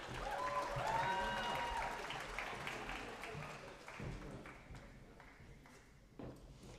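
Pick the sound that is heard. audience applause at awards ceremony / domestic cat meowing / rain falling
audience applause at awards ceremony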